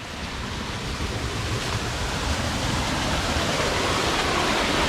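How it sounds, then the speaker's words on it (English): Water rushes and roars continuously nearby, a broad steady wash of noise with no pauses and no voices. "this is water coming from everywhere"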